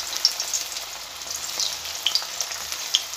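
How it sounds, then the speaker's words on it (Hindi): Vegetable koftas deep frying in hot oil in an iron kadhai over a low flame, giving a continuous soft hiss and bubbling with scattered small pops and crackles, close and moderately quiet. "मैंने लोहे वाली कढ़ाई में डाल रही हूँ आज डीप फ्राइंग के लिए"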